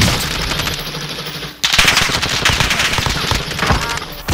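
Rapid automatic gunfire rattles through a military shooter game in long, dense bursts, loud and close, with a brief break before the firing resumes even harder.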